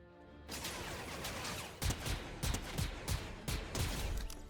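Gunfire in the video game Fortnite: a burst of sharp shots after a quiet start, with several distinct loud cracks spaced about half a second apart over background noise.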